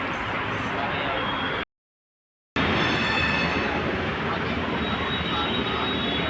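A Delhi metro train rolls into a station with a loud, broad, steady rumble and whine, briefly cut out by a gap of silence before resuming just as strong.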